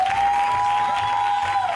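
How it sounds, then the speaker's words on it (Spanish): Brief burst of audience applause welcoming a guest named Onofre on a comedy show, steady and moderately loud with a sustained tone ringing over it. "Un aplauso para él"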